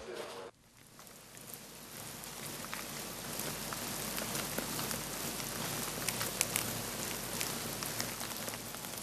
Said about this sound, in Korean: 누에가 뽕잎을 갉아먹는 소리는 마치 봄비가 내리듯 서정적인 소리로 한국의 아름다운 소리 백선에도 포함된다.